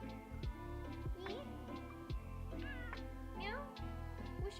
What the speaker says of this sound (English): Those are softer meows.